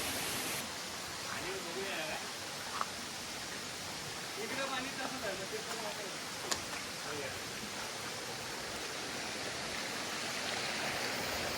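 Steady broadband rush of stream water flowing at a swimming spot in Konkan, continuous and fairly loud throughout, with faint voices talking intermittently underneath.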